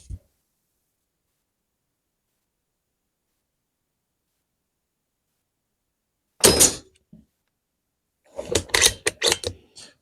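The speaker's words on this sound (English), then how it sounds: "Right, 5 shots incoming." A budget air rifle fires a sharp, short crack after a long silence, then a quick cluster of several more rapid snaps and thuds follows near the end, close and loud with no voices.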